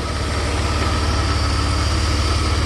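A 1991 Mercedes 300E engine idles with the air conditioning running, a steady close low rumble with an even pulsing throb and no talking.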